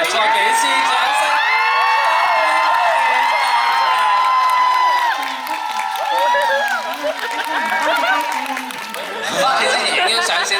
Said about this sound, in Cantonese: 我哋再俾次掌聲。